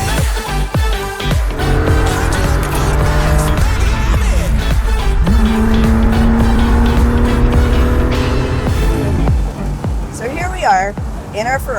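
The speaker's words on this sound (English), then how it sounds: "In our Ferrari 250 GT. And it's pretty easy to drive" A Ferrari 250 GT by Pininfarina drives along, its engine note rising and holding in long steady pulls with gear changes between, loud and close from on board, and a voice briefly heard near the end.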